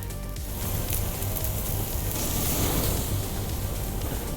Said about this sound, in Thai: เราจะเอามาย่างตรงๆบนเตาคอนโรแบบนี้ครับ